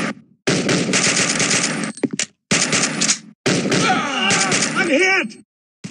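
Rapid automatic gunfire from the mobile shooter game Toon Royale.io, loud bursts in several sustained volleys separated by short silences, with a voice heard during the firing.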